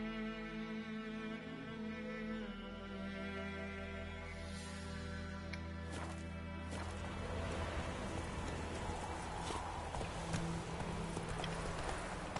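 Roach the horse gallops in The Witcher 3, a soft rhythmic hoofbeat under a sustained musical score that thickens into denser, rushing noise in the second half.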